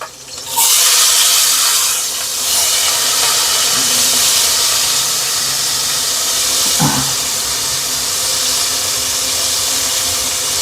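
Tomatoes dropped into a hot pan for Andhra-style pappu set off a loud, steady sizzling hiss that keeps going for the whole stretch, with a brief clatter partway through.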